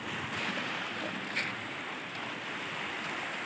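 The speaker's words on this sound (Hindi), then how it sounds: "और इधर बहता हुआ पानी तो मुझे बहुत मस्त लग रहा है" Steady rushing of river water flowing under a bridge in West Bengal, a continuous broadband wash with no pauses, moderately distant and fairly quiet, no voices.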